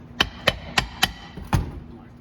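A copper hammer strikes the idler pulley from a Caterpillar D2 Pony five times with sharp metallic taps at a steady, fairly quick pace, the last blow heavier and more thudding, all close by.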